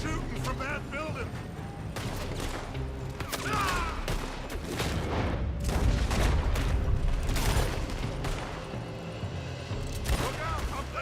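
Rapid, repeated gunfire from a building in the video game Red Dead Redemption, with dense volleys of sharp cracks and booming shots coming close together throughout, alongside shouting voices.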